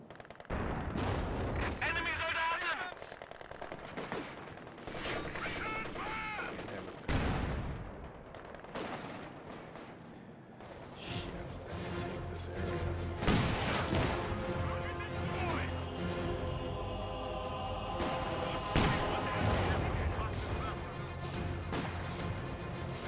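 Artillery fire in Company of Heroes 2 sends heavy booms and crashes through a long, loud skirmish, with small-arms gunfire rattling between the blasts.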